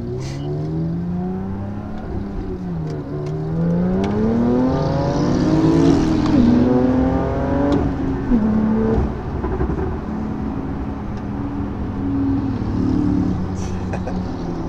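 Engine of a 470 hp Porsche 991.2 Carrera T from inside while driving, revving up and down through gear changes with a rising and falling growl and steady road noise.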